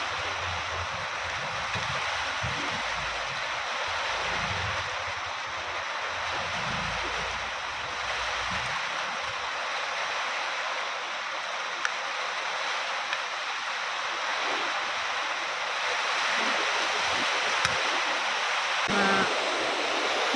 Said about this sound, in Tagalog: Dahil sa sobrang lakas ng hangin at ulan nga guys